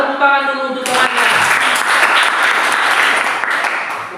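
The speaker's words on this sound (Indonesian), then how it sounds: "Kasih tepuk tangan dulu untuk temannya." Brief speech gives way to a burst of loud, dense applause from students in a classroom, clapping for a classmate and holding steady for several seconds.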